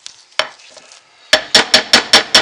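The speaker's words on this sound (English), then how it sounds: "So I'm going to stir that down, just get some of the air out of that soap." Cold process soap is stirred in a container to work out air: a few soft scrapes, then a loud, regular run of about seven close stirring strokes.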